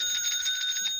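A bicycle bell on the handlebars rings in a rapid, steady trill of bright metallic strikes lasting about a second, clear and close with no voices over it.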